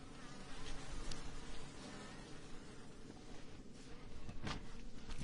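Dense, steady buzzing fills the air, a close swarm of honeybees at a hive droning continuously with no talk.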